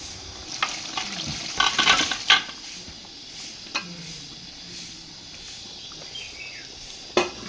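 Cooked mutton being stirred into sizzling masala in a pot for Banashankari donne mutton biryani, a low steady sizzle under scraping stirs and a few sharp clinks of a utensil against the pot, with no talking.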